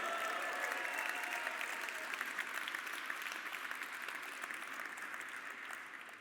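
A keynote audience applauds and cheers in a dense, sustained wash of clapping that holds steady and tapers slightly toward the end.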